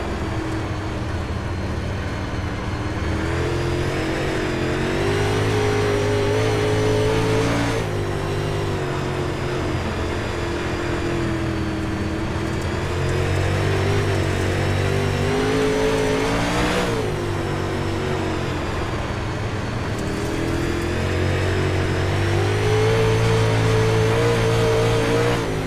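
UMP race car engine lapping at Volusia, a loud sustained roar rising and falling as it accelerates out of corners and eases in, continuous and close for the whole stretch.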